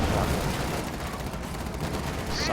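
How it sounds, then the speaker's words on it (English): Grenade blowing up a building in a World War II tactics video game, heard as a dense rumbling blast with crashing debris and scattered gunfire, loud and sustained throughout. "this building will be destroyed by a grenade"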